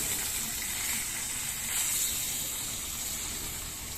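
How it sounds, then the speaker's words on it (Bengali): Pabda fish frying in a small amount of oil gives a soft, continuous hiss and sizzle, steady and moderately close, with no voices. "অল্প তেলে, সামান্য তেলে এই মাছটা ভাজতে হয়"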